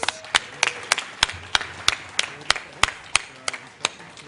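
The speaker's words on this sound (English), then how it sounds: "Give our winners one last round of applause." An expo audience gives a final round of applause for the winners, with sharp, evenly spaced claps at a steady rhythm, close and fairly loud.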